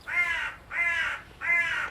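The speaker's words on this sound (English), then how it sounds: "The crows hate it." Three harsh, evenly spaced caws from a crow, fairly close and loud, each lasting about half a second.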